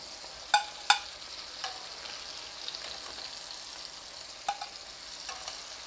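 Meatballs sizzle softly in a frying pan after cooking on medium heat, a faint steady crackle broken by a few sharp pops and clinks, with no talking.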